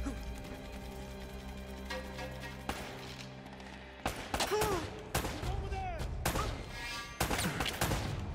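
Gunfire in Uncharted: Drake's Fortune, a run of sharp shots and bursts over a continuous game soundtrack, with several loud impacts clustered in the second half.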